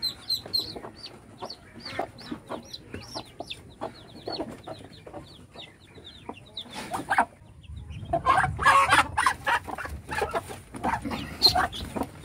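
A mother hen clucks repeatedly in short, choppy bursts, close by, with a livelier, denser flurry of clucking and rustling toward the end.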